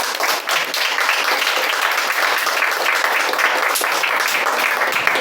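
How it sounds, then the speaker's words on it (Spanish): A church congregation applauds steadily and fairly loudly for about five seconds, a dense wash of clapping with no pauses. "Denle un aplauso al Señor."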